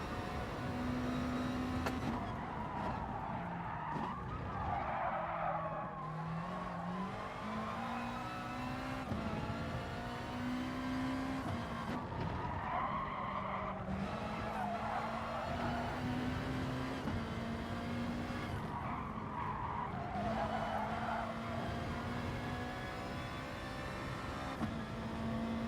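A GR.3 race car in GT Sport at Laguna Seca, its engine droning and revving steadily through gear changes, pitch climbing and dropping as it accelerates and brakes around the lap, continuous and loud.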